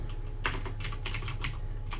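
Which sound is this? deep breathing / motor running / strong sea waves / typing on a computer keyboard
typing on a computer keyboard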